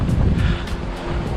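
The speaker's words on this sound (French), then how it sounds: "Il y a un vent, il y a une tempête." A strong storm wind buffets the microphone outdoors on a long-distance hiking trail, loud rumbling gusts surging and easing over a short stretch, with no voices.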